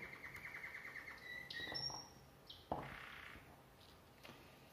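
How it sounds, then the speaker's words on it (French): Small pet birds chirp indoors in a quiet room, a few short high tweets and a brief call sequence, faint and close, with light handling noises between them. "Là vous entendez certainement mes oiseaux."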